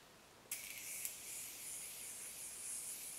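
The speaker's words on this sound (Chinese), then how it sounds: "我差不多就喷个定妆喷雾" Too Cool for School Perfect Day Makeup Mixer setting spray mists out in a fine, close hiss, starting with a quick burst, a second short puff, then a steady soft spray.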